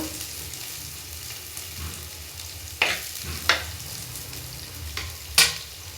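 Finely chopped onions fry in a pan for egg bhurji, a steady close sizzle with a few sharp stirring scrapes and clinks of a spoon against the pan.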